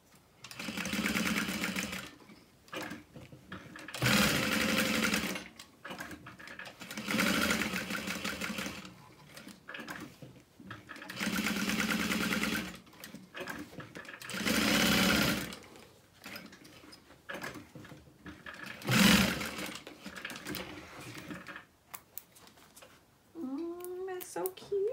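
A sewing machine topstitches and bastes a fabric wristlet in repeated bursts of rapid, even needle chatter lasting a few seconds each, separated by quiet pauses, close and clear.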